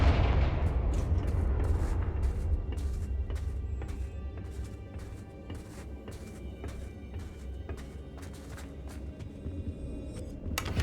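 A Confringo blasting spell in Hogwarts Legacy: a heavy low boom at the start that decays into a rumbling tail, followed by a series of sharp, evenly spaced cracks and impacts over a low background drone.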